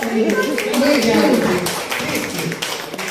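Hands clap several times in a quick, close rhythm while someone talks over them.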